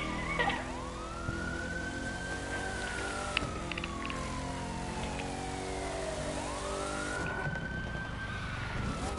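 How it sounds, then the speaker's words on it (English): Police sirens wail in a video game, two rising-and-falling sweeps sounding loud and close over a steady drone of traffic and engine noise. "Hear the sirens? You're always gonna hear them."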